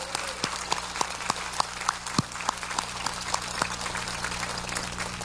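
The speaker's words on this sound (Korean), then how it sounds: "하나님께 모든 감사와 영광의 박수 올려드리기를 원합니다" A congregation at a prayer gathering applauds steadily, a moderate wash of many hands clapping with a few louder individual claps standing out near the front, continuing evenly throughout.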